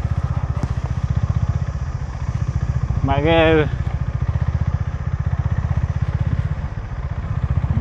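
A motorbike engine runs steadily and loud throughout, parked near Markonahalli Dam on a rainy road trip from Bangalore to Kunigal, with a brief voice heard over it.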